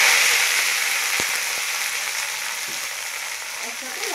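Green chilies, fenugreek greens, potato and eggplant frying together in a pan, a steady close hiss of oil that holds throughout, with a few faint stirring knocks.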